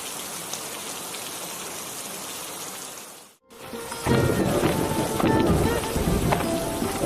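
Steady rain falls and patters on surfaces, broad and continuous, dipping to near silence for a moment before returning heavier and closer; no clear thunder stands out.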